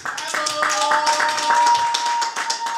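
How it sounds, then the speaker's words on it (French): Clapping from an audience at a press conference for JDT Mulopwe, steady and fairly close, with a sustained tone and voices faintly underneath. "Mesdames, messieurs, on va devoir applaudir pour JDT Mulopwe."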